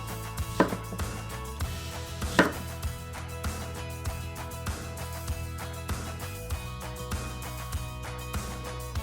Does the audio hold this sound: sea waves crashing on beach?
no